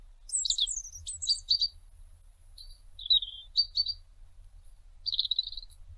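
A robin sings alone in short, clear, warbling phrases with brief pauses between them, bright and moderately close against a quiet background.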